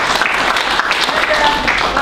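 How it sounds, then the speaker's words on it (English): An audience at a teaching practice event claps for the speakers, a loud, dense patter of applause close by with voices mixed underneath throughout the short burst. "let's give some applause for the speakers"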